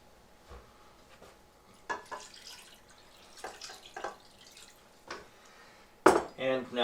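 Water poured into a pot of spiced tomato soup with canned San Marzano tomatoes, heard as scattered clinks of cookware and a short splashing pour near the end, close and without talk.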